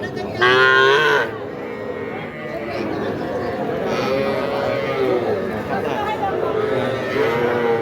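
A young heifer calf moos several times at a busy cattle market in Meherpur, its calls rising over steady crowd chatter while people talk and bargain nearby.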